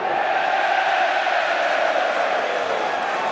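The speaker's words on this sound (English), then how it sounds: "a rather cynical ribald cheer from the Ulster fans" Ulster rugby fans at a match against Leinster raise a sustained, ironic cheer, a dense, even roar of many voices holding steady for a few seconds with no clear peaks.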